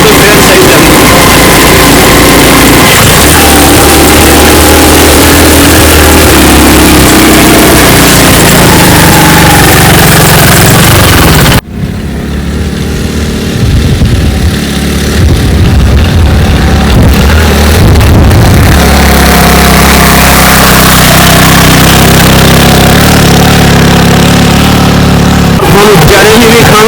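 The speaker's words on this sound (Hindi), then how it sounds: "रेते मोटरसाइकिल बड़ी मुश्किल चलती है और ये स्लो मोटरसाइकिल चलाई तो नहीं चलती।" A motorcycle engine labours as it rides slowly through sand on a forest track, a loud, close, continuous drone that shifts in tone partway through, with someone talking over it at times.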